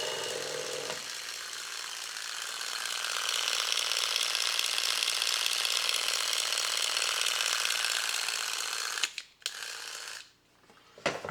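A 1984 Voltron talking robot toothbrush runs its brushing mechanism, a steady, busy mechanical whir lasting about eight seconds before cutting out abruptly into brief clicks and near silence.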